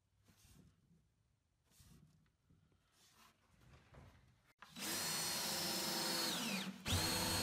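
A cordless drill drives screws into the back of a wooden shelf, a loud steady whir rising abruptly after quieter handling noises and cutting off briefly before a final burst.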